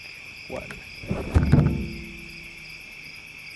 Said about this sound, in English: Crickets, take one.